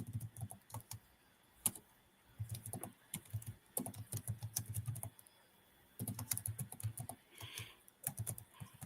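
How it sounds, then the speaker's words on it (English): Typing on a computer keyboard in a quiet room: quick irregular bursts of clicking keystrokes with brief pauses between runs, close and fairly soft. "Let me type that in."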